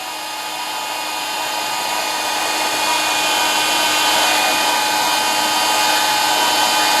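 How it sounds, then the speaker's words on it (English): A heat gun blows hot air onto a soft hot tub pipe at a jet body fitting, a loud, steady whirring fan hiss with a faint tonal whine that holds constant throughout. "You can use, I'm using a heat gun, but you can use a hair dryer to work just as well"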